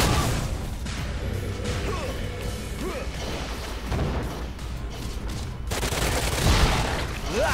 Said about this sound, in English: I'm sitting here blasting my bullets at this moment